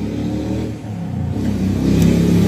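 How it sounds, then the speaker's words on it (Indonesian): A noisy motorcycle engine revs nearby, a loud, steady low rumble that swells slightly toward the end, with no speech. "Maafkan suara motor berisik itu ya."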